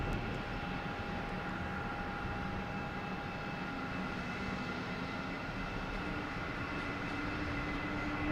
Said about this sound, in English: And we have an American Airlines A319, flight 1158, heading to,